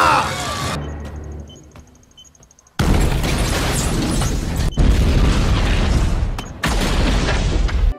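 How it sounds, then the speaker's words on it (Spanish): Planted explosives detonate along a beach in the Rogue One film, a dense, loud roar of blasts and rumbling debris that sustains for several seconds with a couple of brief breaks, after a quieter lead-in. "así que una vez listos, proceden a hacerlos explotar"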